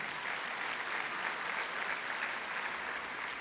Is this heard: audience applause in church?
yes